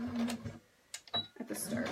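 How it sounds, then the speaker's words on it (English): A sewing machine backstitches briefly on apron fabric for a patch pocket, giving short whirring bursts of stitching separated by a pause, close and clear. "I'm just going to backstitch just a touch"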